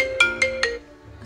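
A mobile phone ringtone signals an incoming call, three quick bright electronic tones in a rising, evenly spaced pattern, loud and close, with no voices over it.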